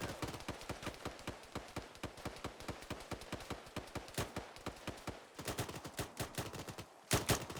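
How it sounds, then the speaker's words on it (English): Rapid, irregular pistol and rifle fire during an Arma 3 infantry patrol, dozens of sharp close shots in quick bursts with a few louder cracks near the end, no talking. "Pistol fire, right."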